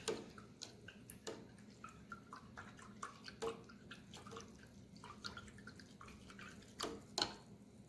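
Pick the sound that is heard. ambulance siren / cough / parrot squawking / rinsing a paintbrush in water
rinsing a paintbrush in water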